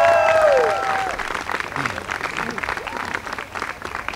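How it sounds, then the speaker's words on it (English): A crowd at a Bronx bus tour event applauds Governor Cuomo with sustained clapping, joined by a few voices and a brief tonal sound at the start. "Let's give him a strong round of applause."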